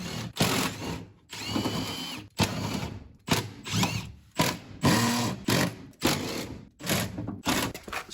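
Power drill removes mounting bolts on a 1973 Porsche 911 coupe in a string of short, loud whirring bursts with brief gaps, close up.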